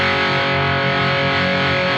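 Electric guitar played through a Fortin Fourteen pedal set to its 808 overdrive mode, a thick, sustained distorted chord ringing loud and close with a heavy boosted tone.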